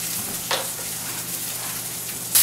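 Norwegian salmon pan-seared in a non-stick pan, a steady close sizzle hissing throughout with a brief scrape of a tool midway and a louder flare of spitting at the end, no voices.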